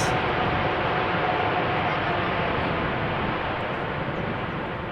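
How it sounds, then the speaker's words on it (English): Airliner landing at Amsterdam Schiphol Airport with reverse thrust applied, a loud, steady broadband roar filling the whole stretch without letup, fading only slightly toward the end. "Nice application of the reverse thrust there. Clearly audible. It was quite loud actually."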